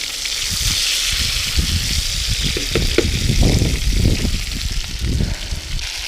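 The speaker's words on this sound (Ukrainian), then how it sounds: "першу партію зараз смажимо декілька разів" Steady crackling sizzle of small crucian carp breaded in semolina frying in hot oil in a pan, loud and close, with bubbling pops throughout.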